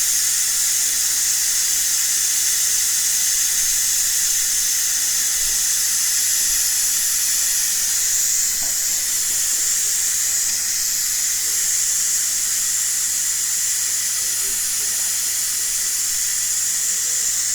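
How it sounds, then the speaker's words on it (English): Steam hisses steadily out of a Ninja Foodi pressure cooker's release valve while it vents pressure after cooking paella, a loud, continuous, close rushing sound with no break for the whole stretch. "quite a lot of steam that's coming out, or releasing all that pressure"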